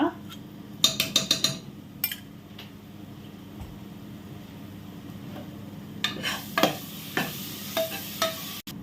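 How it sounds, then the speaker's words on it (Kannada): Ginger garlic paste is stirred in a pan for biryani, with bursts of scraping and clinking from a spoon against the pan, first a quick cluster and then scattered strokes, over a low background hum. "ಈ ಜಿಂಜರ್ ಗಾರ್ಲಿಕ್ ಇದ್ದು ಸ್ವಲ್ಪ ಫ್ಲೇಮ್ ಬಿಡಬೇಕು ಅಷ್ಟರವರೆಗೆ ಆ ಹಸಿ ವಾಸನೆ ಹೋಗುವ ತನಕ ಬಿಟ್ಟು ನಾವು ಫ್ರೈ ಮಾಡುವ"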